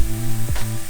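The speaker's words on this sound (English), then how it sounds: "Listen to that sizzling." Chopped onion sizzles loudly in a hot pan at the start of a Bolognese ragù, a steady close hiss of frying with a brief stirring scrape midway.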